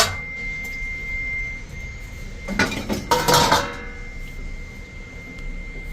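Dishes and plates clatter and clink as they are set into a dishwasher rack, a short burst of clanking in the middle against a quiet kitchen with a steady faint electronic tone.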